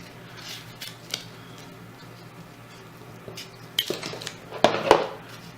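Scissors snip close by at taped edges, with a few sparse clicks early and then a louder cluster of cuts near the end over a quiet room.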